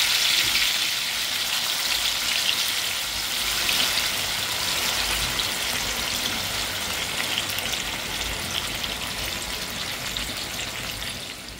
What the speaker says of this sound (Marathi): अर्ध्या तुकड्यांनी इथे तव्यामध्ये फ्राय करायला ठेवलेलं आहे